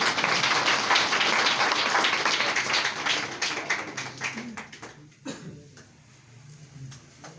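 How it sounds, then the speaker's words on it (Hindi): Audience at a Christmas cake-cutting program applauding, dense clapping that starts full and loud, then thins into scattered claps and fades toward the end as a voice speaks. "जोर से ताली बजाएंगे।"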